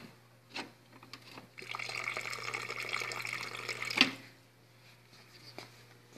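Water runs from the tap of a coffee machine in a steady stream for a couple of seconds, bracketed by a few clicks and drips, close and fairly quiet.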